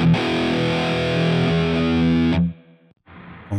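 Loud electric guitar chord through a virtual amp with heavy fuzz distortion, ringing thickly for over two seconds, then cut off to near silence before a brief fresh strum.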